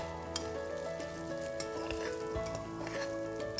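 Soaked rice sizzles and crackles as it is stirred in hot ghee with saffron for a Kashmiri pulao, a dense continuous frying hiss with scraping stir strokes over soft background music.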